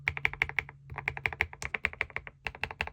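Typing on a Yunzii C75 mechanical keyboard, a rapid close run of soft, creamy keystroke clicks with a brief pause near the middle, alone and quiet.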